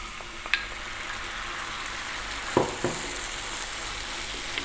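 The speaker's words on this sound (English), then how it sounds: "In go the beans." Beans tipped into a hot pan on lowered heat hiss in a steady, close frying sizzle, with a couple of brief clatters as they land and are stirred.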